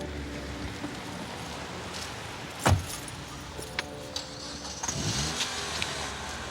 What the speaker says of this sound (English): Getting into the car.